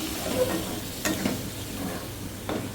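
Water goes into a pan of frying raw prawns, onion and tender tamarind leaves, setting off a bubbling sizzle with several scraping stirs of a spoon against the pan, close and without speech.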